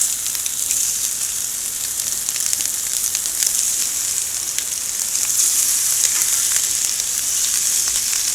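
Lunch meat heating on a barbecue grill sizzles in a dense, constant crackling hiss, close and fairly loud, with faint pops scattered throughout and no talk.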